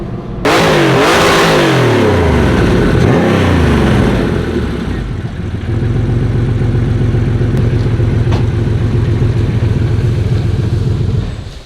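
A naturally aspirated Porsche 964 on a dyno roars through rising and falling revs up close, then drops into a loud, steady drone that holds to the end.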